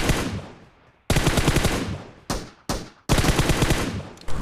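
Rapid automatic gunfire in the PUBG Mobile battle royale game, loud close bursts of sustained fire broken by short gaps, with no talking.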